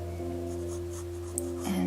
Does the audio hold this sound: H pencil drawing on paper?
yes